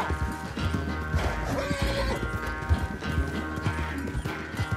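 A horse gallops in Red Dead Redemption 2, with rapid hoofbeats thudding under in-game music and ambient sound, and a brief whinny mixed in.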